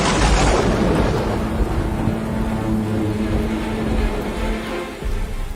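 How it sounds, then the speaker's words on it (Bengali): Heavy rain pours down over open fields with a deep low rumble of thunder beneath it, steady and loud throughout, with no voices. "হঠাৎ আকাশ ভেঙে বাজ পড়ল তার মাথায়"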